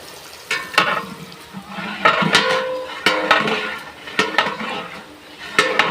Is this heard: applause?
no